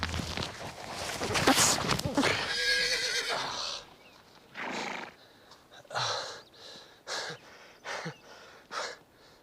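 A horse neighs loudly and shrilly up close, then gives a string of short breathy snorts and puffs in an outdoor wilderness setting, with brief speech mixed in.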